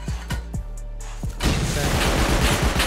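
A rocket launch in the survival game Rust: a few sharp, close thuds give way to a loud, sustained roaring whoosh that fills the rest of the moment.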